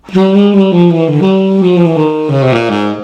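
A reed woodwind plays a few sustained, slightly muffled notes with a dull, stuffy tone, stepping between pitches, close and fairly loud.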